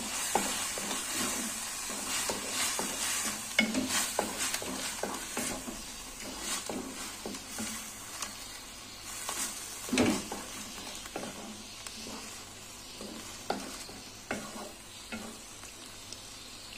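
Bottle gourd halwa cooking in ghee, with a steady soft sizzle under repeated scraping strokes of a spoon stirring the pan, close and fairly quiet.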